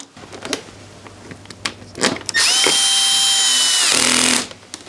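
A cordless power driver whines for about two seconds, close and loud, driving a screw while a BMW R1250GSA motorcycle is reassembled, preceded by several sharp clicks and taps of handling parts.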